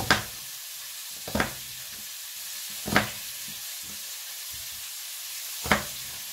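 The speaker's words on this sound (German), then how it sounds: "Das Fleisch bratet sich" Chicken frying in a pan gives a steady, hissing sizzle throughout, with several sharper bursts at irregular intervals as the pieces are stirred or turned; close and moderately loud, with no talking.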